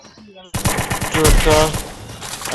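Rapid automatic gunfire rattles loudly in a Counter-Strike match, following a brief quieter moment of game sounds.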